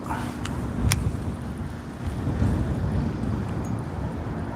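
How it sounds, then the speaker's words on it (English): Steady wind buffets the microphone outdoors during bass fishing on the water, a broad continuous rushing that swells and eases without pause and with no voices. "Wind kicked up a little bit"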